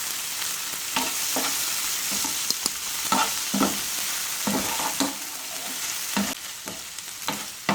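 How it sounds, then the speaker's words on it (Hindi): Chicken pieces fry and sizzle in a hot pan, with a steady close hiss broken by frequent clanks and scrapes of stirring, all without any talking. "अब हम इसमें अपना चिकन डाल देते हैं, और तकरीबन 1 मिनट तक हम चिकन को अच्छी तरह भून लेते हैं।"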